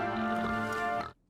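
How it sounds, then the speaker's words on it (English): Pigs oinking, set loose as a distraction in an animated fantasy adventure scene, heard as a dense, loud burst of grunting and squealing lasting about a second before cutting off abruptly. "Distraction. Free the pigs!"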